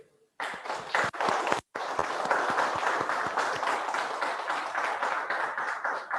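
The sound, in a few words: audience applause welcoming Maxpine Turkey CEO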